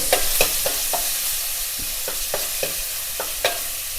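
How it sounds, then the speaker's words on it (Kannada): Garlic paste frying in oil with cumin seeds for mushroom fried rice, a loud close sizzle broken by repeated scraping stirs of a spoon in the pan, no voices. "ಜೀರಿಗೆ ಫ್ರೈ ಆದ ತಕ್ಷಣ ನಾವು ಅಲ್ಲ ಬೆಳ್ಳುಳ್ಳಿ ಪೇಸ್ಟನ್ನು ಹಾಕೊಳ್ಳೋಣ"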